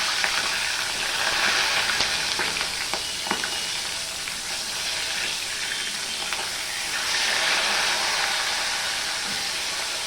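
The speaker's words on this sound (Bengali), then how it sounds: "এবার মাছটা আমি প্রথমে এই সাইডটা ভেজে নেব" Steady loud sizzling of a katla fish head frying in hot salted oil, a dense continuous crackle with occasional sharper pops, heard alone without talk.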